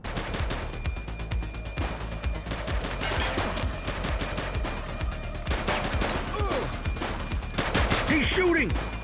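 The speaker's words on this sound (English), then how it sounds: "He's shooting! Yeah, thanks. I can tell he's shooting." Repeated gunshots from a police officer's gun in The Precinct game ring out in irregular bursts across the clip, loud and sharp over a busy layer of game noise, with a heavier cluster near the end.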